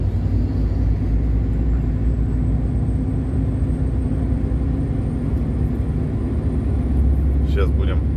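A car cruising along a newly built road near Perm, with a steady, loud low rumble of engine and tyres throughout and a few brief rattles near the end.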